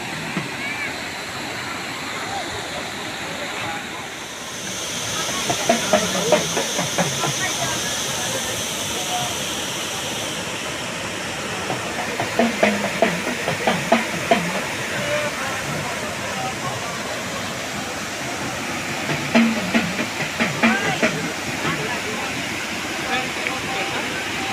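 Water rushing into a brimming pool at a temple, a continuous loud roar with splashing, and a person speaking over it partway through.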